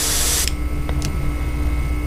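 A short burst of spray paint is laid onto a banded killifish painting, one loud hiss of about half a second. Faint clicks follow over a steady background hum.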